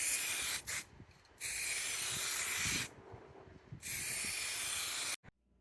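Aerosol bursts of Xenon medium color-shift paint sprayed onto a drive-in movie speaker during restoration, three long hissing passes broken by short pauses, close and steady, with no talk.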